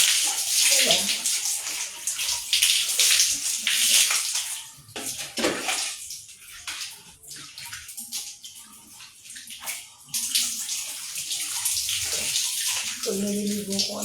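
Water runs and splashes into a bathtub during bathing, a loud rushing stream broken by sloshing pauses and bursts, with a voice and other brief talk faintly underneath.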